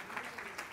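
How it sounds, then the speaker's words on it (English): Brief burst of audience applause for the boys at a church Bible teaching session, steady broadband clapping filling the moment without speech. "Clap your hands for the boys."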